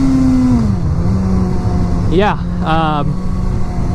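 A 2016 Suzuki GSX-S1000 ABS sportbike accelerates in first gear, its engine note climbing then dropping, with two sharp rising revs near the end over steady road and wind noise while a rider talks.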